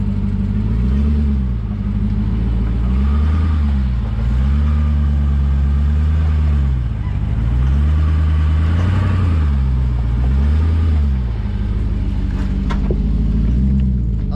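Off-road vehicle crawling over rocks while wheeling on Drummond Island, its engine rumbling low and close, pitch swelling and sagging in slow repeated cycles as the throttle works.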